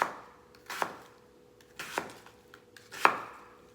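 Onions being chopped with a knife on a board, three or four separate close knife strokes spaced about a second apart over a quiet background, no voices.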